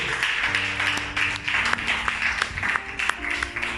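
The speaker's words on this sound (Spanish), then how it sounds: "Denle un aplauso a Jesús, hermano, bien fuerte." A church congregation applauds together, a continuous mass of clapping over a low background hum and faint tones, steady and moderately loud throughout, with no distinct voices.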